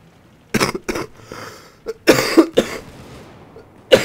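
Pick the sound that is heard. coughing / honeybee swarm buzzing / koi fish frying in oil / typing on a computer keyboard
coughing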